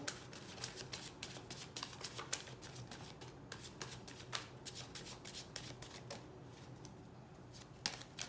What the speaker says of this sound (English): Last shuffle, then I take from the middle.